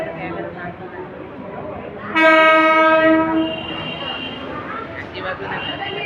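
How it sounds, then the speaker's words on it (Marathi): A loud train horn blasts for about a second and a half amid station rumble as a Konkan Railway train arrives, with people talking nearby before and after. "गाईज ही ट्रेन आलेली आहे"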